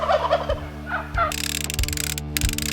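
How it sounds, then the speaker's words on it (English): Wild turkeys gobble near their roost, several rattling calls close by in the first second, followed by a steady mechanical ratcheting with a low rhythmic thump beneath. "all the turkeys are hanging here and roosting close by"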